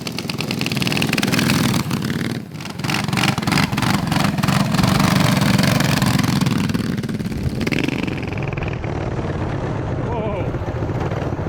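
A triple-engine vehicle with three small 15-plus horsepower engines feeding a 3-into-1 exhaust runs loud and close, a steady buzzing drone with rapid firing pulses that eases off near the end, while people talk over it.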